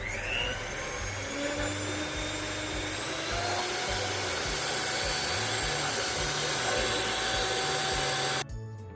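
A steady electric mixer whips eggs in a bowl, whirring loudly and continuously with a pulsing low hum and a brief drop near the end.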